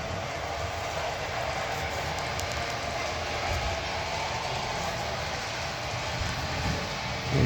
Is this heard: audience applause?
no